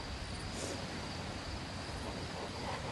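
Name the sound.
cricket chirping outdoors at a beach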